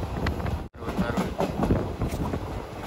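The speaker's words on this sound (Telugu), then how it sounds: "మన ట్రైన్ అయితే తాంబరం స్టేషన్కి ఎంటర్ అవుతుంది" Circar Express passenger train rolling along the tracks toward Tambaram station, a steady broadband rumble with wind buffeting and a brief dropout, voices faintly audible beneath.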